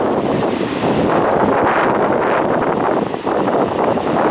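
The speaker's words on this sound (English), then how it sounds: "That's the water coming in. So it'll start coming under me in a minute." Tide water rushing in beneath the Grand Pier on a winter beach, a steady, loud broadband roar of surf and churning water heavily mixed with gusting wind buffeting the microphone, continuous throughout with no voices.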